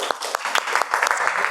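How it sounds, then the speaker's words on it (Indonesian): A classroom of students applauds for a presenting group, brisk dense clapping with sharp individual claps standing out, fairly loud and continuous for the whole moment, with a voice faintly mixed in. "Kita beri tepuk tangan dulu untuk kelompok 1 dong."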